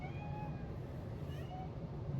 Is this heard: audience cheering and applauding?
no